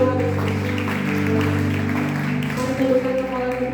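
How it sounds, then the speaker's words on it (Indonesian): A church congregation applauds during a Sunday worship service, a steady wash of clapping blended with sustained keyboard or sung tones and voices throughout. "Beri tepuk tangan yang meriah untuk Tuhan Yesus."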